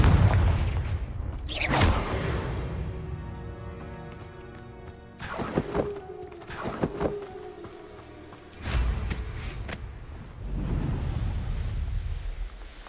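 Confringo blasting spell in Hogwarts Legacy on Xbox Series X: several sharp, booming blasts with rumbling tails, spaced a few seconds apart over a steady game ambience.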